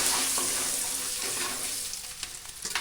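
Curry leaves and tempering stirred in a hot frying pan, a steady close sizzle with a spoon scraping now and then, crackling bursts growing sharper toward the end.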